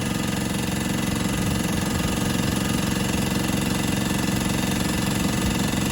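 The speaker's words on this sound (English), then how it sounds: "pretty quiet for a oilless compressor" Oilless air compressor running up to about 150 psi: a loud, steady, close mechanical drone with a rapid rattling pulse, unbroken for the whole stretch.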